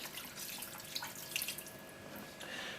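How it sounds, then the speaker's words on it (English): Water poured into a slow cooker while making lamb curry, a quiet, steady trickling and splashing with a few brighter drips. "I'm adding the rest of the water"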